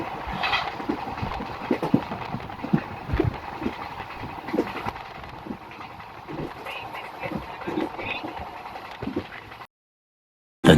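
A train travelling from Nellore toward Mangalore, rolling steadily with rhythmic clickety-clack of wheels over rail joints and a constant rumble, heard from inside or close by, cutting off into silence near the end.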